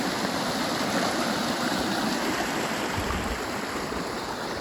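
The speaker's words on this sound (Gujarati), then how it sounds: "અહીંયા અમારે જો પાણી કેવું હાલ્યું જાય છે, ઘરથી નજીક જ છે" A hill stream fed from the mountains flows with a steady, even rush of fresh water, constant and moderately loud, with no voices.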